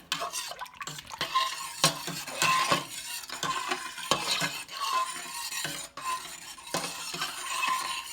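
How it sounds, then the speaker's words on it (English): Rabbit in a cream and mustard sauce being stirred in a pan, with a spoon scraping and clinking against the metal in steady strokes over a soft sizzle, close and fairly loud, with no talking. "let's get this all stirred together here"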